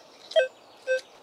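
A metal detector sounds two short warbling electronic beeps about half a second apart, clear and close against a quiet background.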